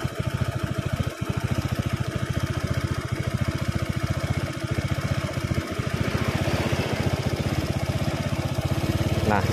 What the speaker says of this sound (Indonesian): Coba Kang Bro dengarkan untuk suara mesinnya.